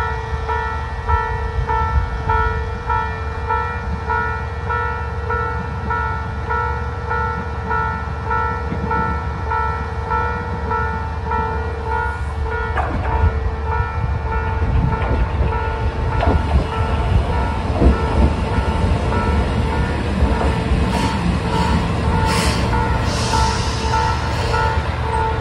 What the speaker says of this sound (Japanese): 間もなく電車が入ってきますね。